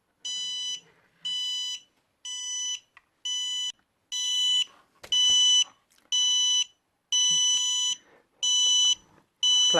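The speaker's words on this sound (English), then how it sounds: "And then the quad starts beeping." A Simtoo Dragonfly Pro quadcopter drone beeping at power-up, a regular series of loud, evenly spaced electronic beeps, about one per second, bright and tonal, repeating ten times with faint handling noise between.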